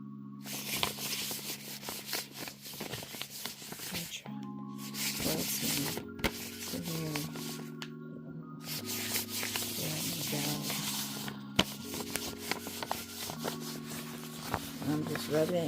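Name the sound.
rubbing oil into a spell jar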